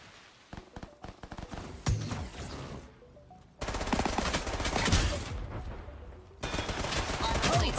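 Bursts of submachine gun fire from a shooter video game, rapid loud volleys cutting in and out with brief pauses, dense and close.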